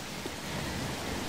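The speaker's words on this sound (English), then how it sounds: "Storm coming!" Steady rain hiss in Left 4 Dead 2 during a stormy level, a dense even wash of falling rain with a low rumble underneath, continuous through the short stretch with no voices.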